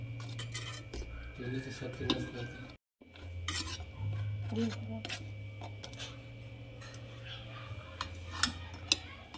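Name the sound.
stirring sweet puris in sugar syrup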